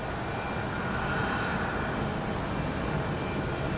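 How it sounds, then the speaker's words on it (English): An American Airlines A321 arriving at Raleigh Durham airport on a windy day, its engines giving a loud, continuous broadband roar close by with no pauses and no talk. "the next arrival, that American A321 from Charlotte"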